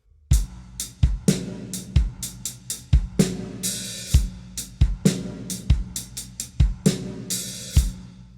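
A steady drum groove with punchy kick and snare hits, and a sizzling open hi-hat splashing in regularly on the and of 4 in each bar.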